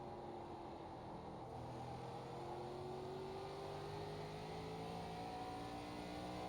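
Simulated ARCA race car engine from iRacing at Lakeland Speedway, a steady continuous drone with slowly rising harmonic tones as the car circles the track, loud and alone with no talking.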